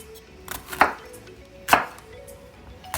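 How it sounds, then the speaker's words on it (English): Knife chopping fresh jalapeños on a cutting board: a few sharp, close, loud chops spaced irregularly, with no talking. "We're gonna start chopping down these jalapenos"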